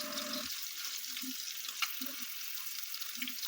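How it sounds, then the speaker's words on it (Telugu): Eggs frying slowly in a pan on a low flame, a soft continuous sizzle with a few brief low clinks and taps of a utensil, quiet and close, no speech. "లో ఫ్లేమ్లో పెట్టుకొని మెల్లగా ఫ్రై చేసుకోవాలి"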